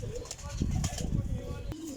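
Flying pigeons cooing close by in soft repeated low coos, with light rustling and a brief flutter, under someone speaking.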